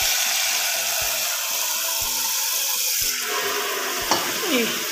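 Water is poured into a pot while preparing ramen, heard as a steady rushing pour with a few knocks and clinks, and nobody talks.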